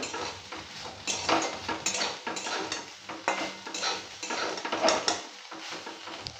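Spoon scraping and stirring fried soybean chunks in a metal pan with light sizzling, then scooping them out, steady clatter of cookware throughout without any talking.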